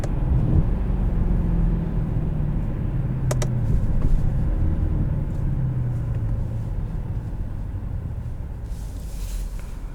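A 2013 Mercedes-Benz E63 AMG cruising in automatic mode, its steady low engine and road rumble continuous and fairly loud from inside the cabin, with a brief faint click partway through.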